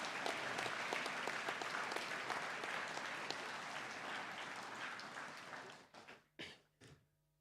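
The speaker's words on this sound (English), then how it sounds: "Can we give these boys a round of applause" At a senior school assembly, an audience gives a sustained round of applause that stays dense and steady, then tapers off into a few last scattered claps.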